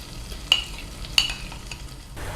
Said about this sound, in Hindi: लो फ्लेम पर मसाला भुन रहा है।